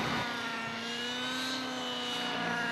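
A computer-controlled helicopter flying aerobatic manoeuvres gives off a steady, droning engine whine with a rising tonal pitch, continuous and moderately close, with no voices.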